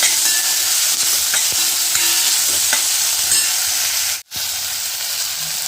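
Ambadi flower chutney sizzles gently in a pan over a low flame while a spoon stirs it with soft, repeated scraping, and the steady close hiss drops out for a moment near the end.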